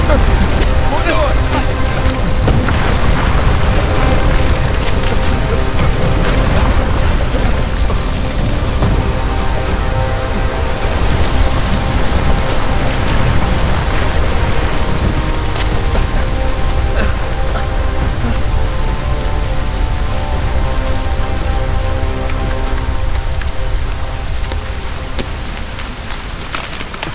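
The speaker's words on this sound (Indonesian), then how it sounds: "Hujan es! Lari!" Heavy rain and hail pour down with thunder in a film disaster scene, a dense, loud, unbroken roar of impacts that continues for nearly half a minute and eases slightly at the very end.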